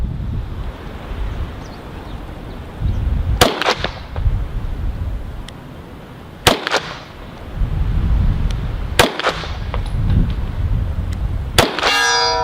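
Arsenal Strike One pistol fired at steel targets outdoors, a few loud single shots spaced seconds apart, each followed by a metallic ring, over steady wind noise, ending with a rapid cluster of sharp cracks.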